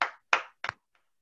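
A few scattered hand claps at a technology industry diversity and inclusion event, three sharp separate claps in quick succession followed by two faint taps, fairly close and with no voices.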